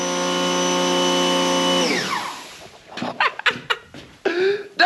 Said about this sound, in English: I feel like this thing's gonna take off like a rocket as soon as I like turn the pressure washer on